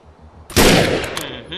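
A sniper rifle in the video game Defiance fires one sharp, loud shot close by, its echo trailing off, with a few mechanical clicks after it.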